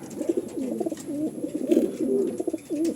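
A pigeon, kept in a loft for breeding, coos in soft, throaty, repeated rolling phrases close by. The calls run almost continuously, with no talking.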